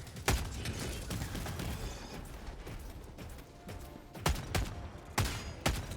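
Dominator gun firing against Armored Scout Striders and automaton enemies in Helldivers 2, several loud sharp blasts spread irregularly over a busy, noisy battle background.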